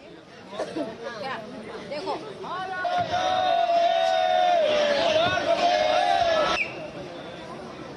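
A crowd of devotees at Mahakal temple fills the space with loud, overlapping chatter and calls, a sustained chanting voice rising above the babble before cutting off abruptly.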